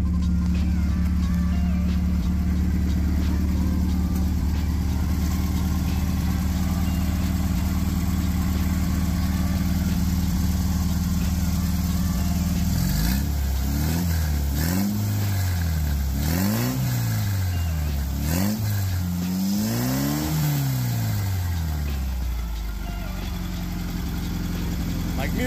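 An air-cooled engine in a 1968 VW Beetle rated around 80 horsepower cranks, starts and settles into a steady idle, then is blipped in several quick revs that rise and fall, loud and close, with no talk over it.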